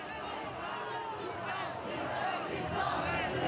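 Crowd cheering and acclamation at a La France insoumise political march heading to Place de la Nation, a dense, sustained roar of many voices that swells slightly toward the end.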